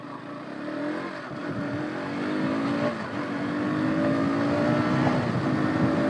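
A KTM RC200 motorcycle engine pulls away in first gear on a village road, its steady, rising drone building in pitch and loudness close to the rider.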